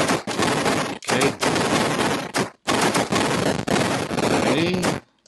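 Tank gunfire in the Atari 7800 game Tank Command, loud harsh bursts of electronic shooting noise repeating in long stretches with brief gaps between them.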